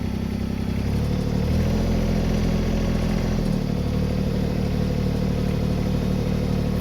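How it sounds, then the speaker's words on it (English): A machine engine with about 236 hours on it, pulling up a slight grade, revs up to around 1500 rpm, holding a steady, loud, continuous low drone that shifts in pitch partway through. "let's rev it up to about 1500"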